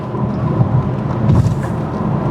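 The low, rumbling engine of a 2022 BMW M4 Competition drones as the car speeds up in road mode, heard from inside the cabin with a steady roar of road noise.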